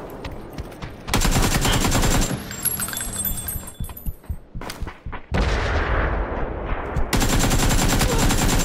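Gunfire in PUBG on PC, several loud bursts of automatic fire with sharp single shots between them, starting and stopping abruptly, with a few quieter gaps of game ambience.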